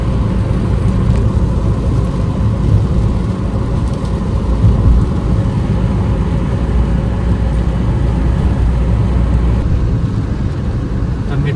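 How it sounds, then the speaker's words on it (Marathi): Heavy monsoon rain pours in a dense, constant roar, with a low rumbling of thunder running through the whole stretch. "पाऊस खरंच खूप आहे मित्रांनो"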